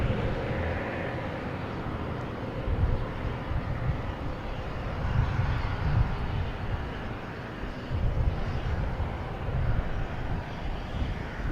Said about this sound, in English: There's Delta coming in from Minneapolis, A321, flight 2649.